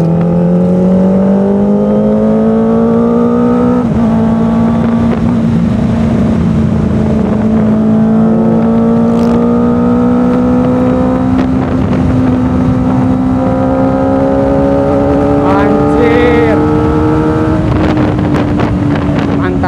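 A Kawasaki ZX-25R limited edition four-cylinder motorcycle pulls hard in fifth gear on an open road, its high-pitched engine note rising steadily and loud with wind rush over the microphone, briefly dipping around a shift.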